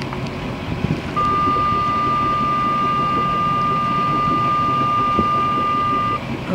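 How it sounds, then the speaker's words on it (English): A Garmin fog horn mounted on a sailboat mast in fog on San Diego Bay sounds one long, loud, steady tone for about five seconds over a constant background rumble of wind and motor. "There's our foghorn on the mast."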